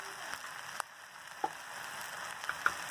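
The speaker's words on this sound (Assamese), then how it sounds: "এইখিনি অলপ সময় ভাজি ল'ম" Tomatoes, onions and spices fry in a pan for chole paneer with a soft, faint sizzle broken by a few light clicks and taps, close by and without talk.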